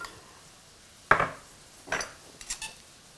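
A crumble of crushed Petit Lu biscuits, cane sugar and butter is worked in a bowl, giving a few separate clinks and scrapes of utensil on dish, sharp and close with quiet gaps between them.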